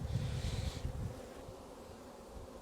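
Dense crowd of honeybees on a brood frame, buzzing close and steady, loudest at first then settling to a softer continuous hum, with no talking.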